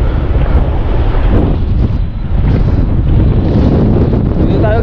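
Strong wind buffets the microphone on a boat during a fishing trip at sea, making a loud, constant low rumble throughout.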